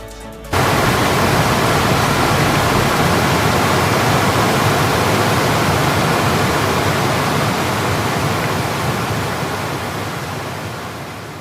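Amargarh waterfall roars in a dense, unbroken rush of falling water, loud and close, holding steady and easing slightly toward the end with no voices.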